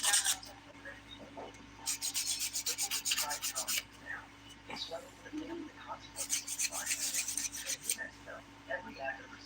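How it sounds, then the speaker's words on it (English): A nail file rasping back and forth across a dip powder thumbnail, in quick close bursts of strokes with short pauses between, no talk. "hate filing my thumb so much."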